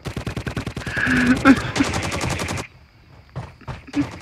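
Rapid automatic gunfire rattles in a Call of Duty match, a fast rhythmic burst of close loud shots, then a pause and a few scattered shots, with a voice talking over it.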